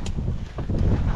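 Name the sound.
wind on Inwangsan mountain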